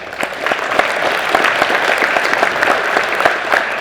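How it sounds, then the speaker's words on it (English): An indoor audience at a racing Hall of Fame induction ceremony applauds the event sponsors: dense, loud, continuous clapping with sharp individual claps popping out, and no talking over it. "So I want one more round of applause for them as well."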